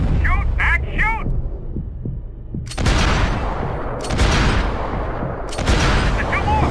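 Gunfire from Max Payne 3 cracks out in loud bursts of several shots, separated by short pauses, with heavy low thumps and shouted game dialogue between the volleys.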